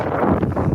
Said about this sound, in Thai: ลม หนาว มาก